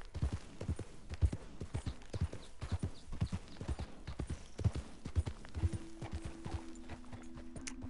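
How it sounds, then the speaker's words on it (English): Horse hooves clip-clop in a steady walking rhythm in the Red Dead Redemption 2 game, with distinct close thuds and a sustained hum entering partway through. "There's his horse right there."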